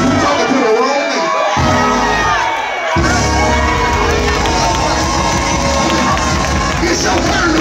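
A church congregation shouts and cheers loudly to one another during a sermon, a dense, sustained crowd roar of many overlapping voices with whoops, dipping briefly before swelling again.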